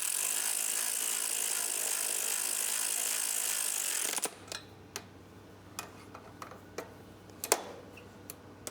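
Ratchet wrench with a 12mm socket turning on a motorcycle ABS brake line fitting, Triumph, a few seconds of steady loud clicking followed by scattered single clicks and short bursts.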